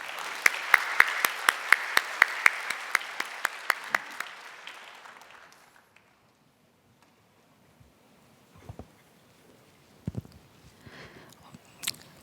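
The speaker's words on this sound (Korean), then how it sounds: "우리 나올 때 우리 박수하면서 우리 초청하도록 하겠습니다" Church congregation applauding during a Korean young adults' worship service, steady close claps for about four seconds that fade away, followed by near silence with a few faint knocks and rustles.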